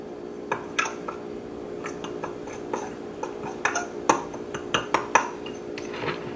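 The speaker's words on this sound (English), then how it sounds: "I'm gonna get a fork to mix it up first" Fork clinking and scraping against a dish while mixing ingredients, an irregular series of light metallic taps and clicks growing busier toward the end, close by and fairly quiet.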